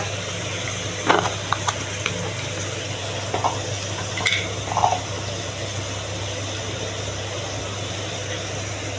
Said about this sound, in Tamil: கொஞ்சம் புதினா இதை போட்டு இது கூட சேர்த்து நல்லா வதக்கிக்கோங்க